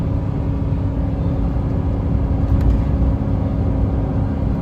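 Old Chevy truck engine laboring up a steep hill at about 4000 RPM and 60 mph, a steady loud droning rumble from inside the cab with no talking.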